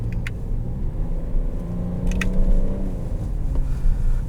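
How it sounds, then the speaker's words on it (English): Engine of a 2020 Ford Edge ST blipping its revs on a paddle-shift downshift into first gear, a steady low rumble heard from inside the cabin that swells briefly mid-clip, with no talk. "We'll use the paddle shifters. Rev matches down into first gear."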